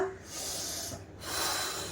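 Quiet breath drawn in and released during a seated belly-fat exercise, heard as two soft airy rushes separated by a brief pause, with no talk.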